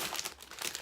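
A bag of purple decorative shredded paper, meant for filling an Easter basket, gives a short, faint, close crinkle of rustling plastic and paper.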